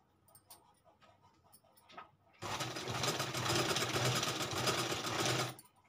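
After a few faint clicks, a sewing machine stitches along the edges of a piece of buckram. It runs as a loud, fast, steady mechanical whir for about three seconds, then stops abruptly.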